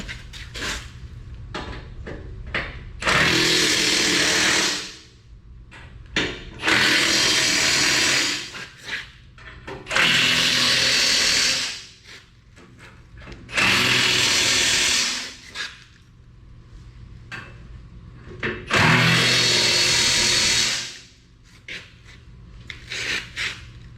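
A power tool tightens bolts on the carbide cutting edges of a Cat 140M3 motor grader, in five loud, close whirring bursts of about two seconds each, separated by quieter gaps with faint clanks.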